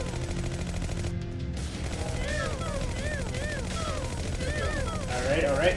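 Rapid gunfire in the game Battle Bears-1 rattles continuously under a steady wash of game noise, with a brief gap before bursts resume, chirping electronic tones overlaid and a voice speaking over it.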